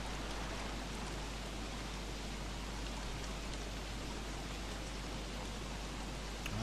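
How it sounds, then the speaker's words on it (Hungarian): Heavy rain falls in the video game Don't Starve as a steady, dense hiss that stays even and unbroken throughout, with no voices over it. "Kurva esik az eső, és remélem, hogy nem lesz hangos."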